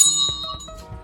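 A notification bell chime rings out in a short bright ding with a lingering ringing tail, fairly loud and alone with no talking.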